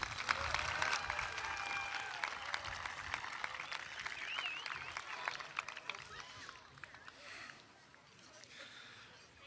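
Commencement audience at the Tabor College 2017 graduation applauding graduates, a steady wash of clapping from a large crowd with voices mixed in, fading somewhat toward the end.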